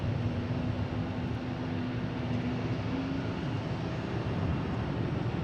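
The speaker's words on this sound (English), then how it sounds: "we have American Airlines taking off" An American Airlines Boeing 737-800 taking off at Boston Logan, its jet engines a steady, loud broadband roar with a faint tonal whine, continuous throughout with no talk.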